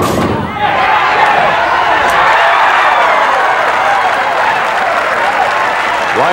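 A crowd at a 1982 professional bowling match in Miami bursts into loud applause after a pivotal double, a sudden swell of clapping and cheering that stays full and sustained to the end.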